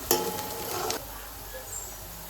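Chickpea masala frying in hot oil gives a bright burst of sizzling and spoon stirring for about a second, then settles into a faint, low crackle.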